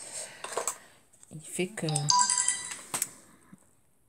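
A mobile phone sounds a short, bright melodic chime partway through, near the middle of a quiet crafting session, while someone talks softly before and after it.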